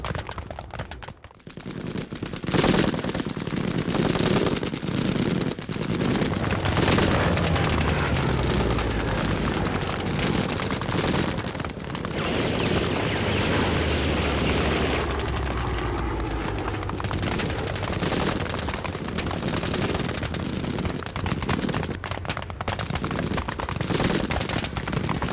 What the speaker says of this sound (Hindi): यहां हमास लड़ाकों की ताबड़तोड़ फायरिंग की तस्वीर देखिए।